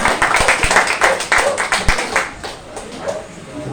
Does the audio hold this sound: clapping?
yes